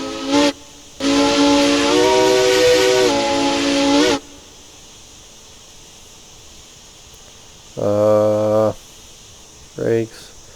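A loud steam locomotive whistle in the video game Railroads Online blasts for about three seconds, then two shorter toots follow after a pause, with a soft hiss beneath.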